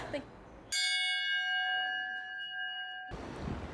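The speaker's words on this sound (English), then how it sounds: "Oh yeah, I have to ring the bell." A single bell is struck once, ringing out clearly with a bright metallic tone that sustains and slowly decays for over two seconds before cutting off into room noise.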